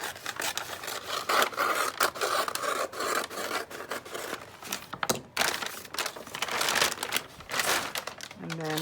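Crunchy coffee-dyed paper being cut and handled: continuous crisp crinkling and rustling close by, with a voice speaking over part of it.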